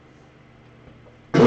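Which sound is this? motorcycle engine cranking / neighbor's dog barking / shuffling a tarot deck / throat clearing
throat clearing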